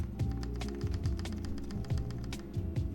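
Rapid keystrokes rattle on a mechanical keyboard fitted with unlubricated TX stabilizers, a dense, even run of close clacks with occasional deeper thocks from the stabilized keys, heard alone.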